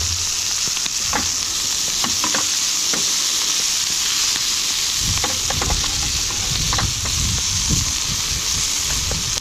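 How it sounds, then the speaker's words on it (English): Sausage sizzles steadily in olive oil in a pan at an outdoor campsite, a loud continuous hiss with scattered pops and spatters. Several scraping stirs come through toward the end. "once your sausage browns up a little bit, we can start breaking it up"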